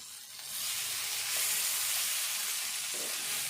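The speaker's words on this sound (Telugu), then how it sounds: "ఈ మసాలా. ఇట్లా వేగుతూనే ఉండాలి." Masala for a spiny bitter gourd curry frying in a pan, a loud, continuous close sizzle with a light hiss and no talking.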